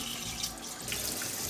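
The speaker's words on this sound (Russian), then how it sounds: "Заливаем все заново водой." Tap water running steadily into a pot in a home kitchen, a continuous close hiss and splash for about a second and a half with no talking.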